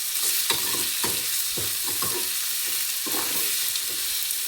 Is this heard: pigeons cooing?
no